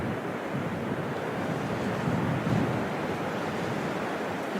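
Wind gusting across an open golf course at the Women's Scottish Open, a steady broadband rush with a slightly stronger swell midway, no talk.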